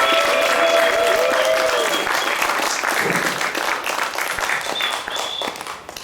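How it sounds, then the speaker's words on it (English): Audience applause at a startup program's final pitch event as a team takes the stage, loud clapping from a crowd that starts strong and gradually thins, with some voices mixed in. "So please give a big applause to Demo on stage."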